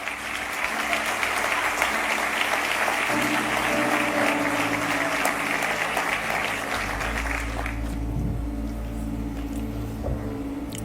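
An audience applauds during a Portuguese-language sermon, with loud sustained clapping for most of the stretch that thins out toward the end, leaving low hum and room noise.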